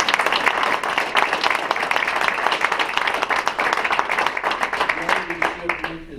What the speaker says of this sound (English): Let's give Neil Hohenstein a round of applause.